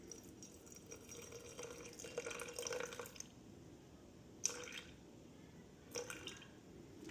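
Water poured into a jar of sourdough starter on a kitchen scale: soft trickles and a few light splashes in short bursts, quiet against low room hum.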